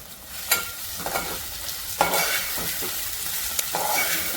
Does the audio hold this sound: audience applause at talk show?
no